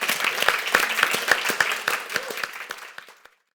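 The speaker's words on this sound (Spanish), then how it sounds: "Un aplauso para Pat Plaza, por favor." Festival audience applause for animator Pat Plaza at the Guadalajara International Film Festival: a room of hands clapping with sharp individual claps over a dense patter, thinning out and stopping near the end.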